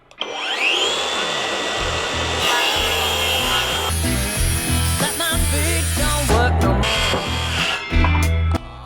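A SKIL 3571XP cordless circular saw cuts wood with the blade set at 45 degrees, giving a loud, close, continuous whining cut with shifting pitch that lasts several seconds.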